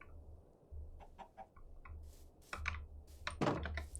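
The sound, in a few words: chickens clucking in a video game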